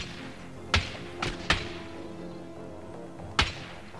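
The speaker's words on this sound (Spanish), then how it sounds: "Escucha esos tiros, ¿no?" Four sharp, distant video-game gunshots ring out in an irregular pattern, the second pair close together, each a brief crack with a short tail over a quiet, low background.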